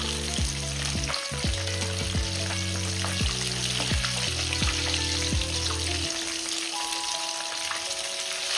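Karaage, Japanese fried chicken, frying in oil in a small home kitchen in Japan, a dense crackling sizzle over a steady background hum with a few clicks, continuing alone without talk.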